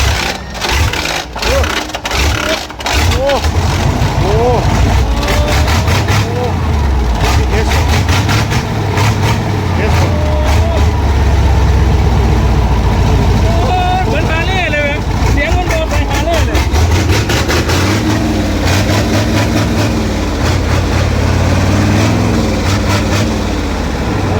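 A Hino V8 truck engine running loud and close, a deep rumbling roar with revving swells throughout, someone talking over it.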